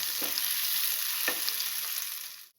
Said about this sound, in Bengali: মটরশুঁটিটা সেটা দিয়ে দেব দিয়ে এটাকেও আমি ভালো করে একটু ভেজে নেব